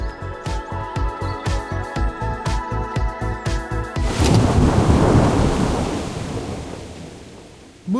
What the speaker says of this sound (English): Moving south, my Henry arrived in the Talmberg Woods to the open arms of rain and lightning.